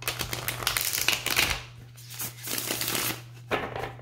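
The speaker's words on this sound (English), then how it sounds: "One more shuffle." Playing cards being shuffled up close in quick riffling bursts, a low steady hum running underneath.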